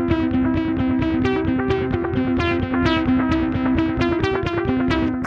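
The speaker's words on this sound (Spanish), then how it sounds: "el delay suena un poquito sucio, como con distorsión." Acoustic guitar strummed through a delay pedal that sounds dirty and distorted, with a moonshine drive in the chain, playing steady repeated chords with smeared echoes, loud and continuous.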